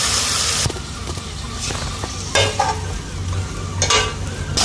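Meat sizzling in a pot with fried onion, cinnamon sticks, garlic and ginger for shaljam gosht, with steady frying noise, occasional stirring scrapes and louder bursts of sizzle.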